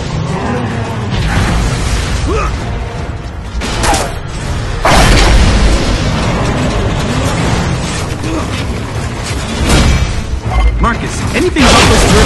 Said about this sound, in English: Whoa! Artillery incoming!